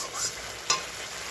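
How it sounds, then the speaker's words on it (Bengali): Spice paste frying in oil in a pan for a Bengali sorsha pabda fish curry, a steady soft sizzle with a brief louder burst of stirring partway through, close up with no talk. "মশলাটা কিন্তু ভাজা হয়ে গেছে"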